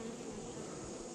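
Honey bees swarming around an open hive during a beekeeping yard inspection, a dense, continuous buzzing drone that fills the space close by, with no other sounds.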